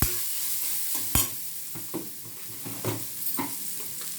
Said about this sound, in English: add the grated raw banana or Vadai. Fry a little